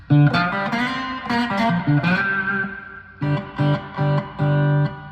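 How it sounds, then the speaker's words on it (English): Three-string cigar box guitar through distortion playing a short riff of chugging, gritty notes, stopping briefly, then resuming with several punchy sustained chords, loud and close. "let me crank up my distortion just a little bit more"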